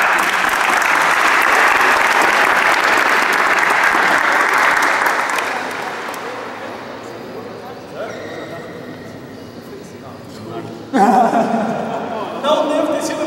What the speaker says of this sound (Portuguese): Então, uma salva de palmas para a equipe.